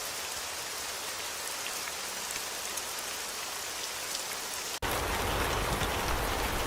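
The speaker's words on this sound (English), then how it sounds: "Rain loop." A rain loop sample from a melodic house music pack gives dense, steady rainfall hiss throughout. It cuts briefly and then comes back slightly louder.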